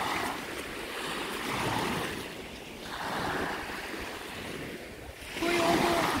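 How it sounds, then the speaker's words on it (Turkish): Waves surge and break on the shore at Kilimli in slow repeated swells, a broad rushing roar that rises and falls, with a louder crash near the end. "Dalgası çok yüksek."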